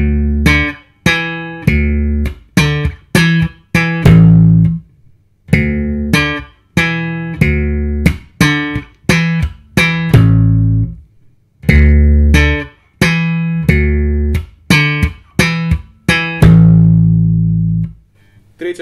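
Electric bass plays a riff slowly and alone, with clear plucked notes in short, separated groups and brief pauses between phrases.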